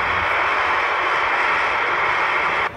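Aerobatic airshow plane, the Jelly Belly 8 wing flown by Kent Pietsch at Trenton 2016, drones steadily overhead with a loud, sustained engine roar that cuts off abruptly near the end.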